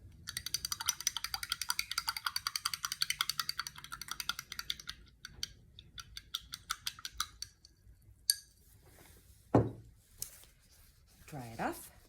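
A paintbrush is rinsed in a glass water jar, rapidly tapping and clinking against the glass in a fast rattling rhythm, then slowing to scattered knocks and swishes, with a brief voice near the end.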